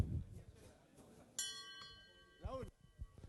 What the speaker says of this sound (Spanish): Voy a tocar la campana.